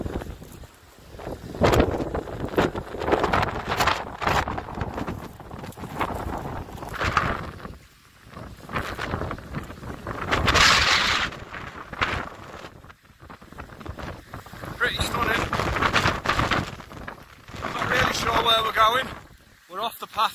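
Gusty wind buffets the microphone on an exposed hillside walk in Wales, rising and falling in loud rushing bursts with brief lulls between them.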